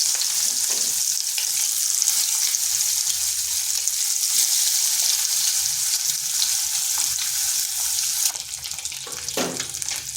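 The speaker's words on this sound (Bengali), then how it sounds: "এরপর ডিমগুলোকে ভেজে নেব।" Boiled eggs coated in salt and turmeric fry in a spoonful of oil in a kadai, giving a loud, continuous sizzle with occasional scraping and a sharper crackle near the end.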